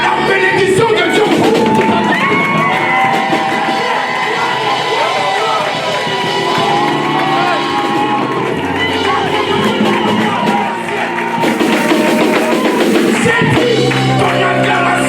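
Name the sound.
church congregation cheering and acclaiming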